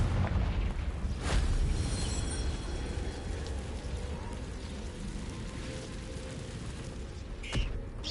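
A Confringo fire-spell explosion in the video game Hogwarts Legacy gives a sustained, loud, rumbling boom that stays dense and heavy across the whole moment, with a brief sharper burst near the end.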